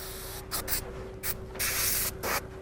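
Airbrush hisses in repeated short bursts of spray paint onto a black t-shirt, each burst loud and close, with a faint steady tone underneath and no talking.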